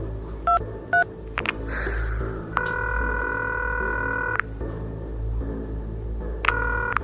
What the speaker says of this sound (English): Call him now. On the burner phone, all right?